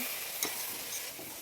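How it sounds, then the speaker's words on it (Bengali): Flowers fry in oil in a large kadai, giving a continuous close sizzle with a brief stirring clink partway through. "আর এই সাইডে হচ্ছে সন্না ফুল ভাজা"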